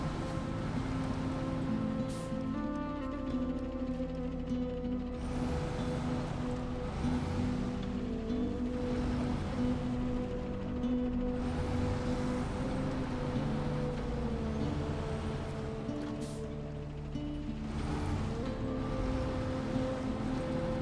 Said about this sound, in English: It's got a nice engine noise. It's not a noisy truck.